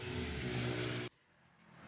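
CD 70 motorcycle built as a cafe racer runs with a steady, buzzy engine drone for about a second, then drops abruptly to a low idle-level rumble.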